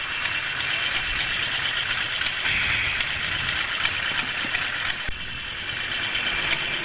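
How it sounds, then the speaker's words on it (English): An old-school Ferrari 512 sitting at idle on a street, a steady, even engine hum with a bright mid-range drone, close and fairly loud, holding constant with one brief click near the end and no talk. "Old school Ferrari, 512."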